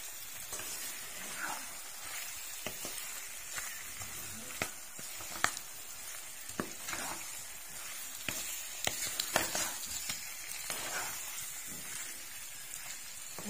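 Potatoes and fenugreek leaves fry in a little cooking oil in a pan, giving a soft steady sizzle with scattered crackles and occasional stirring scrapes, fairly quiet and close.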